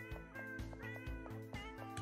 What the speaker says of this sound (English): They're just meowing and purring.